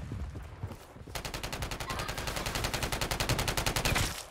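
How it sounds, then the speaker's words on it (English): Rapid gunfire from a sniper rifle in a shooter video game, a dense run of sharp, evenly spaced shots that starts after about a second and keeps rattling at close range to the end. "I think he's sniping right here."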